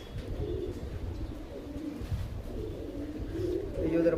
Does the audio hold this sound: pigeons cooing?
yes